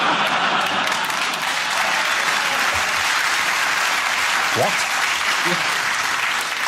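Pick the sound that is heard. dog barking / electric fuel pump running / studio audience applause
studio audience applause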